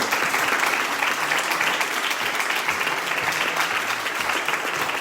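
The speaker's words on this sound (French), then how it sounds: "Je te propose de regagner ton siège sous les applaudissements du public" Audience applause at a business meetup as a presenter returns to her seat, dense and sustained clapping from a room full of people, steady throughout with no voices over it.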